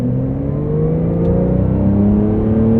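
A 2023 Porsche 911 Carrera T with a manual gearbox accelerates, its engine note climbing steadily in pitch, loud and close, a continuous smooth rising drone with no talk.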